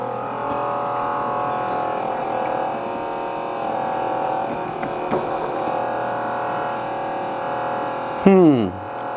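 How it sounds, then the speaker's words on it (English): An old car heater blower motor with worn, loose bearings runs loudly and steadily, giving a constant buzzing hum, then near the end a quick descending whine as it spins down. "I have heat, and that motor is freaking loud."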